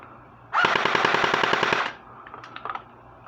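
An airsoft Thompson electric submachine gun fires on full auto, a rapid mechanical burst of evenly spaced clicks lasting about a second and a half, loud and close, followed by a few faint clicks.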